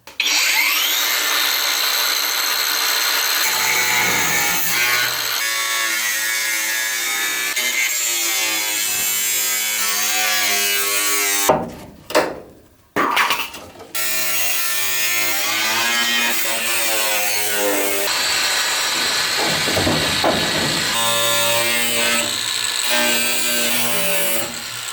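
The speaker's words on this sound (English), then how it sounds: "So what I'm going to do is to drill out the spot welds and then remove this entire panel." A power drill bites through spot welds on the steel body panel of a Citroën AZU van, loud whining bursts with rising and falling pitch, a brief pause midway, then drilling resumes.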